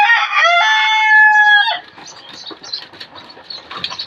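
Egyptian Fayoumi chickens on a farm: one loud, close crow lasting over a second, followed by scattered softer clucks and rustling.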